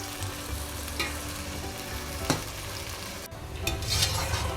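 Chicken pieces for korma fry in a pan on their way to golden, a close, crackling sizzle with a few sharp pops and stirring scrapes over a steady hiss.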